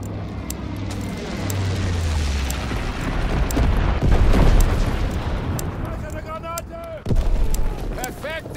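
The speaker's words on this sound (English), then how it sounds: "Altitude bomber inbound, dropping incendiary." Incendiary bombs from a high-altitude bomber in Call of Duty WWII, a rolling series of heavy booming blasts and crackling fire building to a loud peak, with aircraft drone and brief game voice callouts layered over it.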